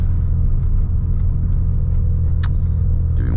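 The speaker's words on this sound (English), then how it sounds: "usually I let my car warm up at idle for at least like 2 minutes when it's really cold out like this" A car engine idling to warm up on a cold 47-degree morning, a steady low rumble held close and constant, with a brief faint click partway through.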